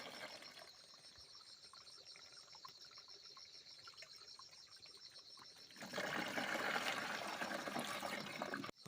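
Water is poured into a 16-litre sprayer, starting as a faint trickle under a steady background hum, then swelling after about six seconds into a loud, broad rushing pour that continues to the end.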